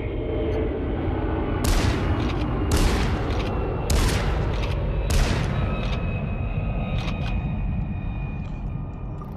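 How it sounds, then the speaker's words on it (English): Gunfire in the VR game Population One, heard as four evenly spaced sharp bursts of shots over a steady loud rumble of background action, with fainter pops trailing off toward the end. "Oh, they're shooting from the other side."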